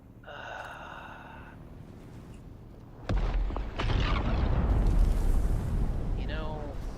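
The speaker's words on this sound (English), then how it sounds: "Is that a spice explosion? That's a spice explosion." A spice explosion in the game Dune: Awakening, a sudden deep booming blast followed by a long rumbling roar, loud and sustained after a quieter stretch of game sounds.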